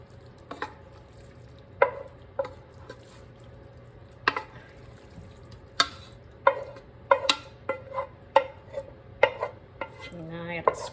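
Scraping a jalapeño popper chicken mixture into a casserole dish, heard as a string of sharp, close clinks and scrapes of a utensil against the dish, spread irregularly over a low steady background hum.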